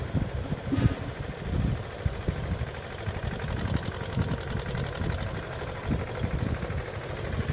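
A steady, close tractor engine drone with a rapid mechanical chatter runs throughout while ploughing, a continuous low rumble without voices.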